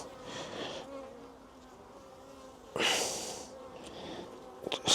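Honey bees at an open hive make a steady insect buzz throughout, close and continuous, with a louder swell midway and a few sharp handling knocks near the end.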